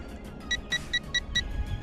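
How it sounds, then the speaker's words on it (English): A Sky Viper Vector 4-channel RC stunt plane controller beeps after a crash outdoors on a soccer field, giving a faint series of short, evenly spaced electronic beeps. "Okay, so the controller's beeping."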